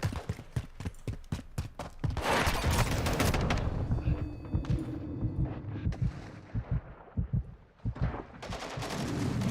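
Rapid bursts of gunfire crackle in Call of Duty: Modern Warfare 2, with loud explosions booming through the middle of the clip, then more sharp repeated shots; the combat is dense, close and loud.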